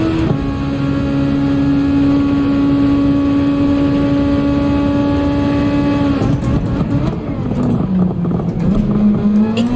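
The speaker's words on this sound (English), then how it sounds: "Those RPMs, Hawko, I gotta keep those RPMs up" A Super Formula race car engine in Gran Turismo 7 practice at Catalunya holds a loud, sustained high-rev drone, then shifts and drops in pitch near the end with no voices over it.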